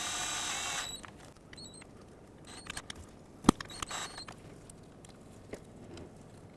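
Oil pan bolts being run in on a 2002–06 Toyota Camry with a hand tool, making a series of quiet mechanical clicks and ratcheting ticks with one sharper metallic snap, close up over faint background hiss.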